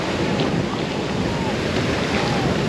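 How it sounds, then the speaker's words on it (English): Ocean surf at Isla Verde Beach in San Juan, Puerto Rico, rushes and churns in a steady broadband wash, close and loud, with wind buffeting the microphone throughout. "These waves is kind of hitting a little bit on the cool though."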